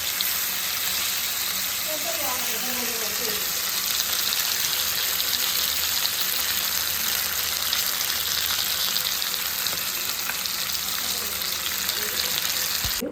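Varal fish fries in oil with a steady, close, continuous sizzle and crackle that runs unbroken throughout.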